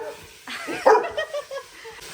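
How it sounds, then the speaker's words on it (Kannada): A dog barks near a home kitchen where chicken biryani is being cooked: a quick burst of several sharp, fairly close barks with a slight whimper, standing out over a quiet background. "ಮತ್ತೆ ಅವ್ನು ಬೊಗಳುತ್ತಾ ಇರಲಿ ಬಿಡಿ"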